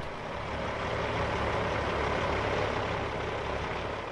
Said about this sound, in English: It's a tricky maneuver to squeeze a 53-foot tractor trailer around the World War II memorial